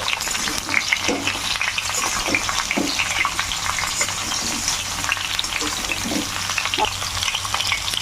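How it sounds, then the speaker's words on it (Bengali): Mango pieces fry in spiced oil for a pickle with a loud, continuous close sizzle, while a spoon stirs them and scrapes the pan now and then. "এবার আমগুলো ভালো করে ভেজে নেবো।"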